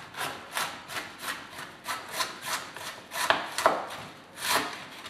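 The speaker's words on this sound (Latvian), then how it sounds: "Sīk sagriežu kāpostus." A knife chops cabbage finely on a board in steady, rapid rhythmic strokes, close and crisp, with no talking.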